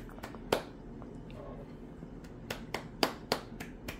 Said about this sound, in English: Watching Mommy clap